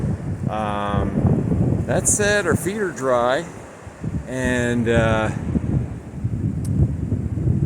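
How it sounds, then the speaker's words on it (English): Someone speaks over constant low wind rumble buffeting the microphone, from 30 to 40 mph sustained winds with 70 mph gusts, with gusty roaring continuing after his voice stops. "We got some wind today, 30 to 40 miles per hour sustained with 70-mile-an-hour gusts"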